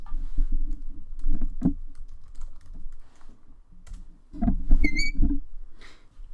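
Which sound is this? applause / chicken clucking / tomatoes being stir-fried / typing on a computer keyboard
typing on a computer keyboard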